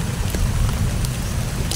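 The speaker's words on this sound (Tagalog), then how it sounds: "Kaya umuulan pa." Rain falls steadily outdoors, a dense continuous hiss of drops that stays even and fairly loud throughout the short stretch, with no voices.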